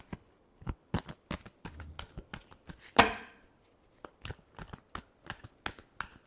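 Tarot cards shuffled by hand: a steady patter of soft, crisp riffling taps with one sharper slap midway, close and quiet, with no voice over it.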